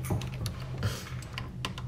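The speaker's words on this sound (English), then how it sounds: "I'll hit Y on the keyboard" Keys tapped on a computer keyboard during After Effects editing, a steady run of quick, light clicks close by, no voice over them.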